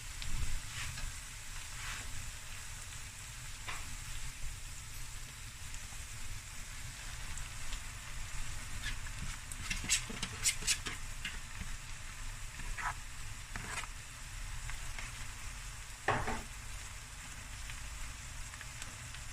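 Oxtail fried rice stir-fried in a pan gives a low, steady sizzle with scattered scraping and clinking of the utensil against the pan, fairly quiet throughout.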